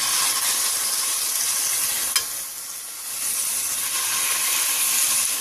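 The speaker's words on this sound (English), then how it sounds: "I'm going to put my chicken in my oil so it can, you know, go ahead and cook." Chicken pan searing in hot oil for a cabbage stir fry with sweet chili shrimp, a loud, steady sizzle and hiss throughout, briefly dipping midway with one sharp clink; no talking.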